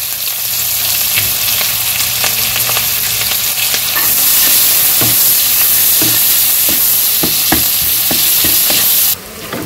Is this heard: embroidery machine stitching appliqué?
no